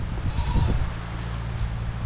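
A goat gives one short bleat outdoors on a rainy day in Moalboal, Cebu. The faint call sits over a steady background of rain and ambient noise.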